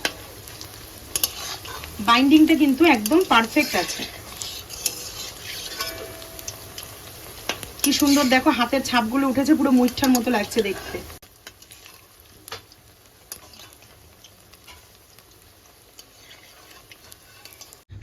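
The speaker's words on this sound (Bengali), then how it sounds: "তেলের মধ্যে আস্তে আস্তে একটু নাড়িয়ে দেব। এক পিঠ ভাজা হয়ে গেছে হালকা, এবার অপর পিঠ উল্টে দেব।" Lentil and prawn muittha dumplings fry and crackle in oil while being gently stirred and turned. The sizzle rises in two bursts under a woman's speech, then drops to a faint hiss.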